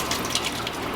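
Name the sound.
squeeze-operated drinking fountain running spring water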